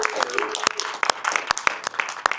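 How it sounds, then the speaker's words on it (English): Applause from a workshop audience, a loose scattering of sharp individual claps rather than a dense ovation, steady across the moment with some voices or background murmur mixed in. "I'd like to give Shannon, Dr. Baker, a big round of applause for organizing this in a workshop."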